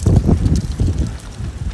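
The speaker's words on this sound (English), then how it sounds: "Oh wow, it's windy here." Outdoor wind buffets a phone microphone in short, loud low-pitched gusts that thump and rumble in uneven bursts for under two seconds.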